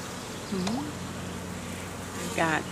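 Honeybees hum in a dense, continuous drone at an open hive during an inspection, with a short human voice sound early on and another brief vocal sound near the end.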